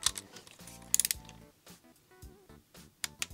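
A ratchet tightens an 8 mm nut on the ground strap of a BMW E46 330i with the M54B30 engine, a close series of quick clicking pawl bursts with short pauses between strokes and no talk.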